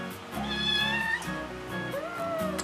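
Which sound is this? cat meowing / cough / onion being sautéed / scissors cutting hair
cat meowing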